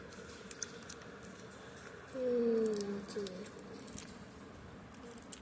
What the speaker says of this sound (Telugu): బయట ఫుల్ వాన.